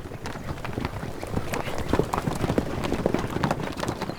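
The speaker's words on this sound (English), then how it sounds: "such as bareback horse racing" Horses gallop in a bareback race at a village festival in Mestia, Georgia, in the Caucasus: a dense, steady drumming of hoofbeats, fairly close and loud, with no talk over it.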